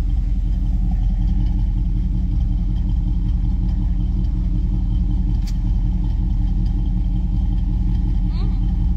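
A Chevrolet Camaro, started after sitting unused for days, idles at lowered revs with a loud, steady, deep rumbling drone, close and continuous throughout.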